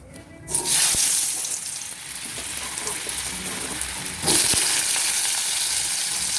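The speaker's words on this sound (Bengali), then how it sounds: "কড়াইতে সর্ষের তেল দিয়ে দিয়েছি। এবার আমি আলুগুলো ভেজে নেব" Potatoes drop into hot mustard oil in a wok with a sharp burst of sizzling. The frying hiss holds steady, then swells again as more pieces go in.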